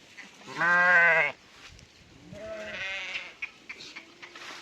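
Sheep bleat several times while resting in shade, one loud drawn-out bleat followed by softer, wavering calls and short bleats from the flock nearby.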